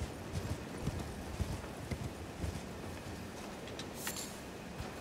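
Horse hooves clopping in the Elden Ring video game, a steady, fairly quiet rhythmic pattern of hoofbeats with soft ambient background.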